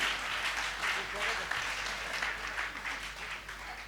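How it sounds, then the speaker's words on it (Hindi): An audience at a Hindi comic poetry gathering claps together, a fairly faint, uneven patter of applause running throughout beneath a speaking voice. "एक बार मिलके ताली बजाओ तो मैं कविता सुनाता हूं साहब"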